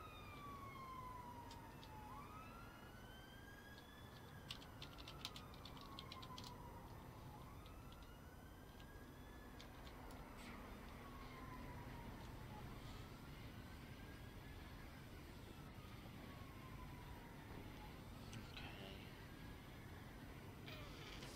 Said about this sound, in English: That's the ambulance.